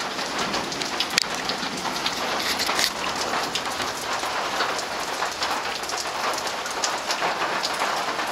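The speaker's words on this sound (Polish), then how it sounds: "będzie chwilowa burza." Steady, dense rain falls on surfaces throughout a brief passing thunderstorm, a constant close hiss of droplets with no speech over it.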